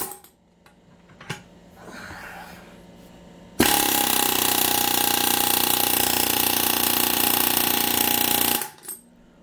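A Harbor Freight Chief Pro pneumatic air hammer with a chisel rattles loudly and continuously for several seconds cutting wood, preceded by a few knocks and shuffling, then cuts off abruptly.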